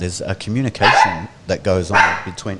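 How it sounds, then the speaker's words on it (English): A dog barks a few times in the background while a person keeps talking over it. "That's my dog."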